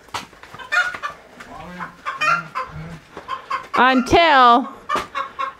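An unhappy hen clucks in agitated bursts after her egg was eaten, ending in a loud drawn-out squawking call, with other birds faintly around.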